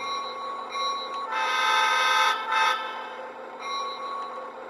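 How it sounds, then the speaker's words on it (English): A Lionel LionChief U36-B model locomotive's steady tonal horn sounds in several bursts over a constant electronic hum, with a faint bell-like ringing mixed in, close and clear. "can you overlap the bell and the horn?"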